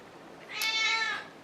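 A hungry cat gives a single clear, rising-then-falling meow lasting about half a second, close and fairly loud against a quiet room.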